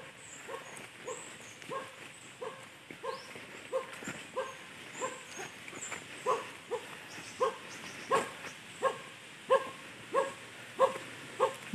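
A dog barks repeatedly in a steady rhythm, moderately loud and somewhat distant, with yips and whimpers mixed in, heard on the way to a house in Castilla, Sorsogon.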